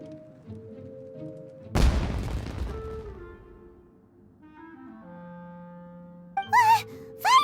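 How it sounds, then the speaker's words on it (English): A firework-like blast goes off in the video game Genshin Impact: a sharp, loud boom with a long crackling decay, set over steady game music, followed near the end by brief whooshing and sparkly effects. "Was that an explosion? It sounded like fireworks."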